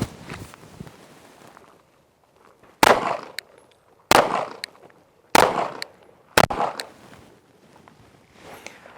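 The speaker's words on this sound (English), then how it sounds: "I'm going to go ahead and demonstrate slowly what that looks like of advancing towards my target while shooting" A shooter fires a gun while walking slowly toward a target. Four sharp, loud reports come at roughly even intervals, with softer shuffling and handling noises around them.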